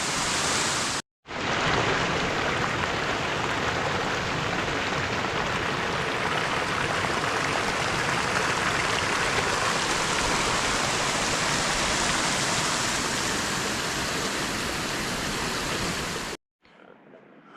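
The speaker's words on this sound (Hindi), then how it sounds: "काफ़ी बड़ा वाटरफॉल है।" Large waterfall at Dodital in Uttarakhand, a loud, steady roar of falling water that fills the whole clip with dense, continuous broadband rushing, with no voices over it.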